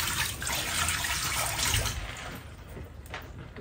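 Water running from a tap as beans are rinsed and strained in a kitchen, a steady loud hiss of flowing water that eases slightly toward the end, with no speech.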